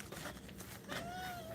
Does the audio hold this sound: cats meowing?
yes